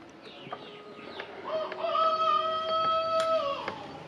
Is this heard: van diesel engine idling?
no